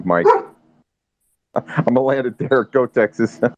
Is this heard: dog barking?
yes